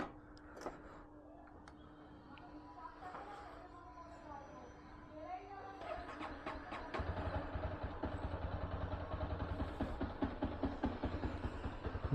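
A motorcycle engine hums and ticks while riding, with someone talking over it at first. The engine then grows louder and more rhythmic over the last several seconds.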